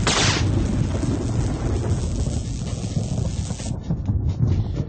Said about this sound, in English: During a thunderstorm, lightning and thunder are produced at the same time.